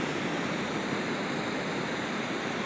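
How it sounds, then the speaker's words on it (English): An Etekcity Bluetooth speaker working as a white noise machine plays a steady, even hiss with no variation across the whole stretch, loud and close, with no other sounds. "Now we're going to hear white noise"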